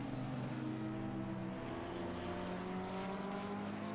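A Porsche race car in the Assetto Corsa Competizione racing game at Brands Hatch, a steady, droning engine note with strong low harmonics that shift slightly in pitch, heard alone without talk.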